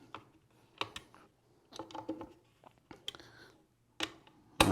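Screws are tightened on a prosthetic posterior mount, close, faint metallic clicks and ratcheting turns coming in short separate bursts, ending with a sharper knock.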